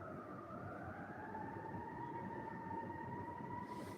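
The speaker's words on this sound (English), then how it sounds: "Hear them sirens?" Emergency vehicle sirens wail steadily outdoors on a cold night, a sustained rising tone holding over a dense rumble of background noise, fairly distant and continuous throughout.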